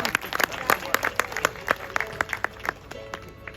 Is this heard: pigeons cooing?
no